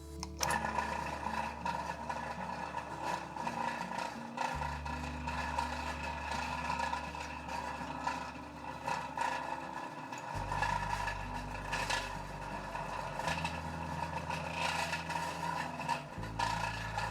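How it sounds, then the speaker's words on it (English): A machine cuts a counterbore in a steel knife frame lock, giving a steady whirring, scraping drone at close range, with a low hum that shifts pitch in several distinct steps as the cut proceeds. "So I got to cut this counterbore in this frame lock down about 70 thousandths for the head of the screw."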